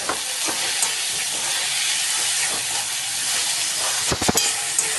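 Tomatoes with salt sauté in a covered pan for baingan bharit, giving a steady hiss and sizzle with a few brief knocks and clatters near the end.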